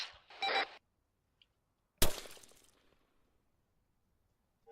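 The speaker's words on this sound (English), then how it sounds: "Someone's shooting fucking 50 cals at me." Heavy .50 caliber gunfire in the video game Arma 3: a short burst, then a single loud sharp report with a trailing decay, separated by near silence.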